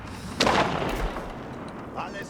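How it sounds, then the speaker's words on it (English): Hand cannons fire during a Holy Roman Empire battle in Age of Empires IV, one heavy booming blast followed by a duller second report that fades into a soft rumble. "Hand cannon."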